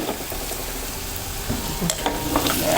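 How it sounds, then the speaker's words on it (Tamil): A steady sizzle of onions sautéing in a pan, with occasional scraping stirs and light clinks of a utensil. "நல்லா வதக்கிடுச்சு ஒரு அஞ்சு நிமிஷம் நல்லா வதக்கிக்குவோம்"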